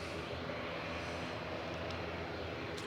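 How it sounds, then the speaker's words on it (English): A noisy propeller plane flown by Emerald Airlines for Aer Lingus Regional at Manchester Airport, heading back to Dublin, drones with a continuous broadband roar and low throbbing, fairly faint and distant, alone without speech. "Noisy prop heading back to Dublin."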